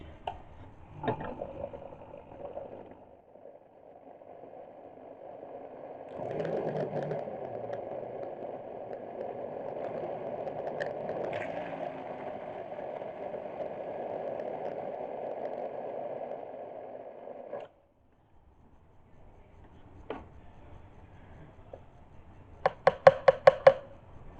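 A blender purees tomato and bell pepper soup with a steady, moderate whir that runs for about eleven seconds and then cuts off. Brief knocks and clatter come before and after it.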